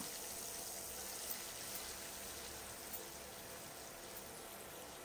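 Chicken pieces fry in oil with green chilli and garlic, giving a continuous bright sizzling hiss with a few small pops, steady and close.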